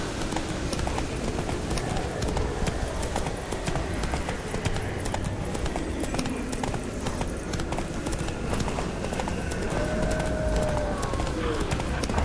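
Geralt's horse Roach gallops in The Witcher 3: Blood and Wine, a continuous rapid clip-clop of hooves at close range, loud and steady for the whole run with no talk over it.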